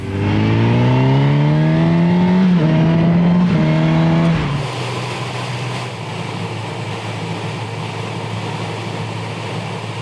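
A car engine revs loudly and climbs through its gears close by on a narrow Norwegian road toward Lysebotn, then drops to a steady rushing road noise as the vehicle passes a cyclist.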